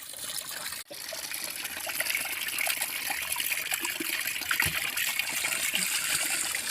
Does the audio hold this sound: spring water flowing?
yes